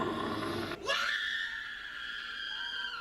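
Someone lets out a long, loud scream at a spooky-themed night of a music festival, rising to a shrill sustained wail that fades slowly, with crowd noise beneath.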